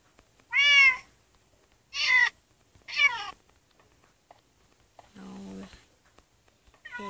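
A cat meows repeatedly nearby, four or five separate plaintive calls spaced a second or so apart in a quiet room.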